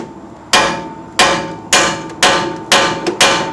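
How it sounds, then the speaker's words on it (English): Metal strikes against part of a car's constant velocity drive shaft using a pointed bolt, six sharp loud hammering blows at a fairly even pace with ringing decay after each, close up and without talk. "This bolt, it's pointy. Maybe we can hit it like a little bit."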